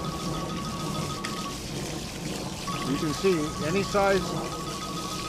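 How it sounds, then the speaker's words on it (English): Water runs through a Gold Wringer sluice machine with a soft, continuous trickling and pouring, heard beneath someone speaking. "begin to run the water through the material."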